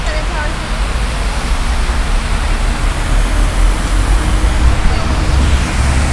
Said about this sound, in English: Nice little waterfall, see?